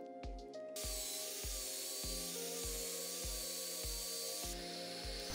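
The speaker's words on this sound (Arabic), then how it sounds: "ثبتتها على الميز وبديت اقص منشار التخريم" A jigsaw cuts a piece of wood clamped to a table, its motor whining steadily while the blade chatters in a fast regular rhythm, close and loud throughout.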